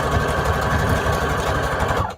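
A sewing machine runs steadily, sewing a big, wide zigzag stitch over lace on an index card, with a dense continuous hum and fast rhythmic needle chatter that cuts off sharply at the end.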